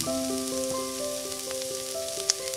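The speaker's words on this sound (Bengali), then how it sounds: "এরপর দিয়ে দিচ্ছি আগে থেকে ধুয়ে পরিষ্কার করে রাখা পোলার চাল ও মসুর ডাল" Polao rice and masoor lentils frying with onions in a pan over low heat, a steady close sizzle running throughout with a few faint tonal chimes on top and no talking.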